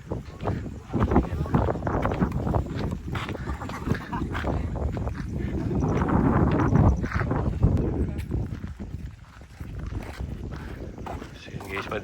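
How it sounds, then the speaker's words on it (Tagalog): Strong wind blows across a mountain car-camping site at Mt. Anahawon Sky Ridge Park in Bukidnon, a loud continuous rushing roar with flapping and knocking noises, while people talk over it. "kasi malakas yung hangin"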